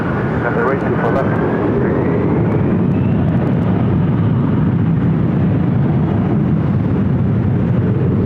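A Boeing 777-300ER airliner taking off from a runway at LAX, a loud, continuous jet engine roar holding steady throughout, heavy and close, with talk over it.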